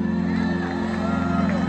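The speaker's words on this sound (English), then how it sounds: "biggest, loudest round of applause I can get." A large festival crowd at a concert at Austin City Limits roars loudly and continuously, with whoops and shouts rising over a sustained tonal background.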